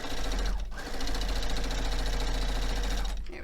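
A sewing machine stitches rows of a quilt block, its rapid mechanical chatter running close and steady with two short pauses, no talking over it.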